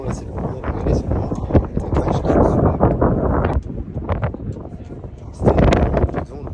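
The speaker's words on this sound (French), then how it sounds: "C'était un peu de vent" Gusty wind buffets the microphone at a motorcycle race circuit in Spain, a loud, continuous low rumble that surges and eases, strongest near the start and again toward the end, with people talking underneath.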